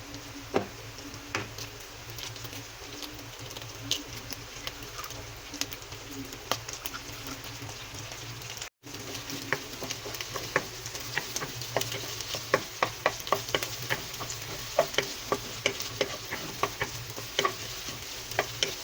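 Egg frying in a hot pan for sinangag, Filipino garlic fried rice, with a steady close sizzle and sharp scattered ticks and scrapes of stirring throughout, briefly cut to silence midway.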